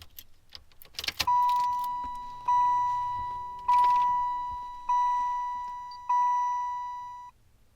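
A car's ignition key turned to the on position sets off a chime: five evenly spaced electronic dings, each followed by a slow fade, after a brief rustle of keys at the start.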